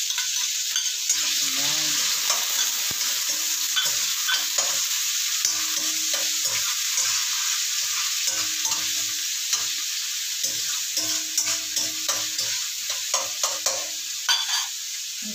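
Garlic, onion and tomato sautéing together in a pan with chicken to follow, a loud continuous sizzle with scraping stirs that grow more rhythmic toward the end; a voice speaks briefly.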